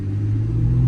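Chevrolet Corvette ZR1 with a 1,064-horsepower engine accelerating, a steady, loud, deep rumble building slightly over one second without any talk.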